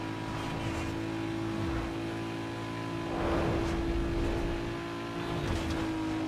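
A Toyota's six-cylinder engine in Need For Speed Underground 2, a steady droning hum with a constant tone that rises slightly in the middle, heard alone with no talking.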